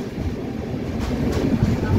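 Intercity superfast express train standing at or arriving into Nalgonda railway station, a steady low rumble of the train and station hubbub with faint distant voices, no clear wheel clatter.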